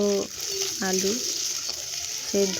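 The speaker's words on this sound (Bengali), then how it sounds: "সব হালকা হালকা করে ভাজতে হবে, খুব খড়া করে ভাজলে হবে না।" Potatoes lightly frying in a pan, a continuous sizzle with intermittent stirring, while a separate tonal melody plays over it in short phrases.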